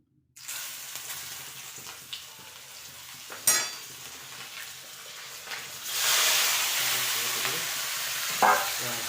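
Green chilies dropped into already hot oil in a small room kitchen, a loud hiss and sizzle that swells and then settles into steady frying crackle, with occasional stirring clatter and a watery spit.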